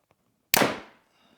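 An Athens Axxis 33 compound bow fires an arrow through paper, a single sharp, loud crack-like release close by that rings out and decays within half a second.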